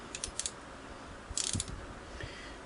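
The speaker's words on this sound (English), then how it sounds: "I'm going to take my little mini ratchet here and get in there" A mini ratchet works on the screws under a Singer 327K sewing machine in a tight space, giving a few quick clusters of small, faint clicking ticks with brief pauses between them.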